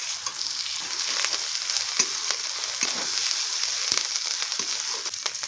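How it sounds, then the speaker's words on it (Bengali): Ginger paste fries in a pan for a Bengali egg curry, giving a steady bright sizzle with soft scraping clicks as it is stirred, close and alone. "2 মিনিট নাড়াবো। আদা বাটাটাকে দিয়ে দিলাম।"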